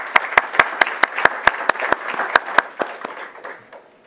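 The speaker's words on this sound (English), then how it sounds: "Please give them a round of applause." A few people clapping in crisp, evenly spaced claps that gradually thin out and fade after a few seconds.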